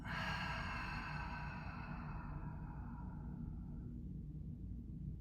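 A long, forceful exhale during gentle yoga breathing, starting breathy and full then slowly tapering off over several seconds, close and alone.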